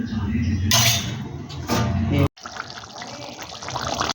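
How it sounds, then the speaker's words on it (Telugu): Water splashes and gushes into a pot of cooking mutton in two pours, with a person talking over it nearby. "అరటి నీళ్ళు పోసానండి 2 గ్లాసులు"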